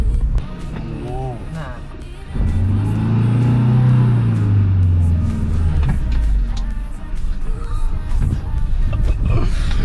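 A car's engine hums and rumbles as it drives down a narrow, steep road, a steady low drone that swells in the middle, while people talk over it throughout.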